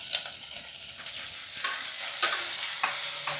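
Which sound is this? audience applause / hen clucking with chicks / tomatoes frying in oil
tomatoes frying in oil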